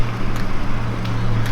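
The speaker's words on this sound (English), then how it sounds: "Well, it's a car." A car passes in the background while out walking in Harlan, Kentucky, a loud steady low rumble of engine and road noise filling the short moment with no talk.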